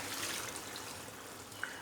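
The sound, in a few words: a glass of water poured into cooking turnips and spinach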